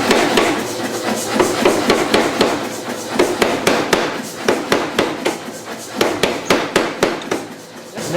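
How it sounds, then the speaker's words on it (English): A hammer strikes a metal part in a forge shop, a run of sharp ringing blows at an irregular, fairly quick pace, loud and close with no talk over them. "I'm going to hammer just a little bit more up high"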